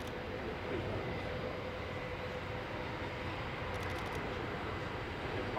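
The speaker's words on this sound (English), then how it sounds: "I think you'll agree that it's a very, very quiet takeoff" The Airbus A380 MSN 001 takes off at the Farnborough Airshow, its engines giving a faint, steady, distant roar with no sharp peaks, heard from the crowd line.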